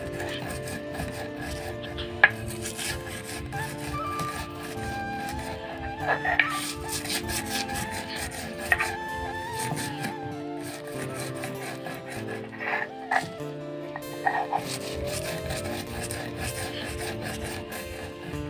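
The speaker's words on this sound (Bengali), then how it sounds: "দেখো কেমনভাবে বাটছি আমি আর তোমাদের সাথে শেয়ার করছি" Mango pulp being ground by hand on a stone grinding slab, a steady rough rubbing and rasping with irregular scrapes and knocks, close and moderately loud throughout.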